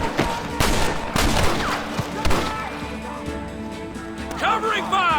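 Gunfire in the Western video game Red Dead Redemption (2010), with several loud, sharp shots and bursts coming in quick succession, close by, over a busy game soundtrack and shouted voices.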